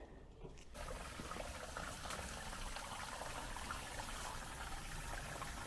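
Water runs steadily out of a house and down from a brick wall being demolished, pouring like a small waterfall in a continuous broadband rush close by after a quieter first moment, with no talk.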